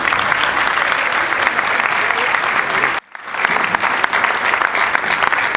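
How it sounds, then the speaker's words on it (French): Audience applause at an artistic showcase evening, loud dense clapping from a large hall crowd, breaking off briefly midway before resuming just as strongly. "je vous demande d'applaudir également"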